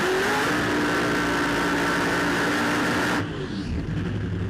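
A nitro funny car performs a burnout at a drag strip, a loud, sustained engine roar and tyre scream that cuts off sharply near the end, leaving lower rumbling.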